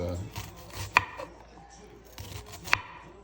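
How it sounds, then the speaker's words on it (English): Onion being chopped into fairly large chunks for a simple hamburger gravy, giving two sharp knife knocks on a board about two seconds apart, fairly faint, with soft handling noise between them. "more you chop up the onion, better."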